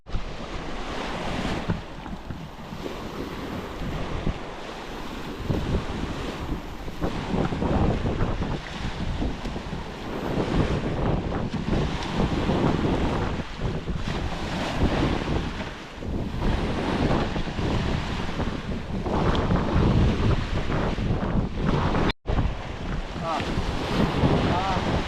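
Rough sea waves surge and crash continuously off Mindanao while strong wind buffets the microphone, a dense, loud wash of surf and gusts with a faint boat rumble underneath.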